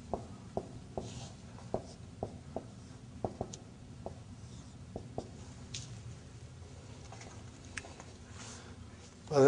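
Students write with pens on paper in a classroom, a faint pattern of light, evenly spaced taps and scratches repeating about every half second over a low room hum.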